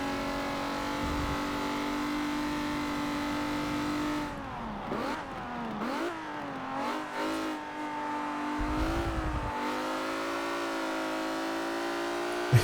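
A slow car in Forza Motorsport 7 laps the Nurburgring. Its engine drones at a steady high pitch, dips and climbs through gear changes midway, then strains as it slowly gathers speed. It is close and continuous, with no voices.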